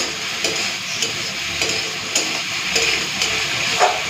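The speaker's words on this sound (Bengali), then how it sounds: "ঢাকা দিয়ে দিয়ে এইভাবে সজনে ডাঁটাটাকে ভেজে নেব।" Moringa drumsticks fry with spices in a pan without water, a steady close hiss and crackle punctuated by regular knocks and scrapes of stirring.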